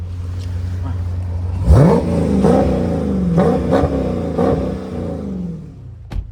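A Dodge Charger-style 392 HEMI Scat Pack V8 in sport mode revs sharply several times: a loud sudden blip, then repeated rising and falling throttle pulls that settle back toward idle before a final short bark.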